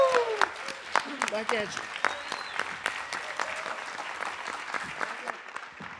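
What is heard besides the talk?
applause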